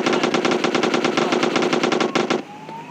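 Rapid video game gunfire aimed at police, a fast steady machine-gun burst of evenly spaced loud shots lasting over two seconds before cutting off abruptly, with no talking.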